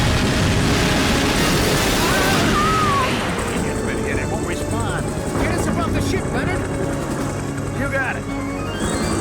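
Futuristic helicopter in the video game Carrier, a loud steady rotor and engine drone with gunfire and explosion bursts, mixed with game voices and a commentator talking over it.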